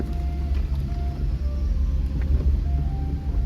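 A stock Jeep Gladiator driving off-road in two-wheel drive high on street-pressure tires, with a steady low engine and drivetrain rumble heard from inside the cab and occasional faint knocks and rattles.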